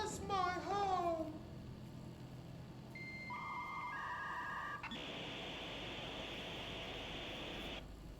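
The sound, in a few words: dial tone in the video game Control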